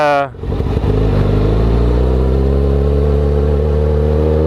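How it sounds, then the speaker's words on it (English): A motorcycle ridden in a parking lot by a new rider, its engine settling into a steady, loud mid-pitched drone after a brief dip at the start, close to the microphone. "And I got on the bike finally, and then we started riding."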